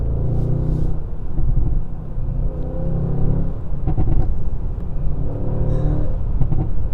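A Mercedes-Benz S560 Coupe in Sport Plus mode revs its engine repeatedly, producing a loud, close, deep rumbling roar that swells and falls in several pulses with no talking.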